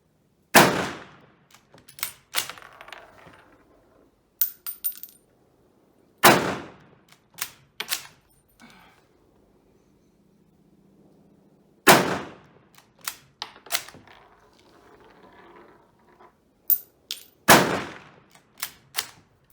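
Sharp, loud rifle reports from an Indian 2A1 SMLE chambered in 7.62x51mm at a shooting range, spaced single shots with some quieter metallic bolt clatter between them, close to the microphone.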